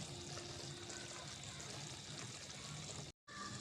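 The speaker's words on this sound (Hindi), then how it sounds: "सूजी ब्राउन हो रही है" Semolina browning in a pan for suji halwa gives a steady, close sizzling hiss that runs unbroken before a brief cut, then resumes.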